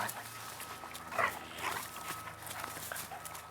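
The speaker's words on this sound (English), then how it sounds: "Puppies trying to kill each other." Puppies scuffle in rough play, giving small yips, whines and growly grunts amid soft thumps and movement, close but fairly quiet.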